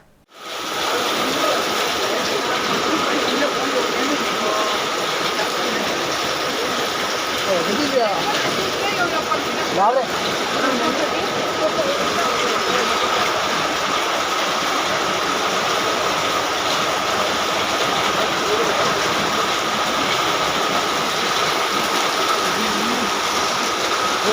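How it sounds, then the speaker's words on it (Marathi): Heavy first monsoon rain and floodwater in Panaji streets give a continuous loud rushing roar of downpour and flowing water, steady from start to finish. "आकांताचो पावस पडलो आनी पयलींच्या पावसान पणजेत हुंवाराची स्थिती निर्माण जाली"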